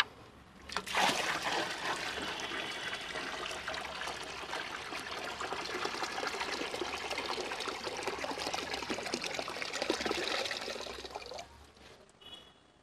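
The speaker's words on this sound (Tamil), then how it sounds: "அடுத்து இன்னொரு குடம் ஊற்றலாம்." Water pours from a pot into a handmade glass fish tank in one long, continuous gushing splash lasting about ten seconds, close and clear, then stopping abruptly.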